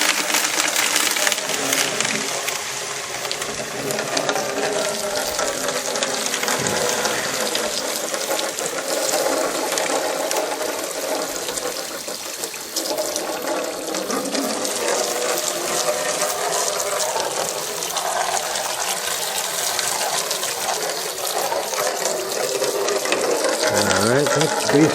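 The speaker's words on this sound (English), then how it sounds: "the cleanup will take a matter of moments with my handy dandy" A garden hose sprays water steadily to rinse out a gold prospecting sluice leaning against a house, giving a loud continuous hiss and splatter that lasts throughout with no talk.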